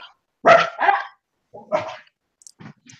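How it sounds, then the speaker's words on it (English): A dog barks close and loud, a couple of sharp double woofs followed by a few quieter, shorter barks with gaps of silence between them. "It looks like the dog agreed with you, Star."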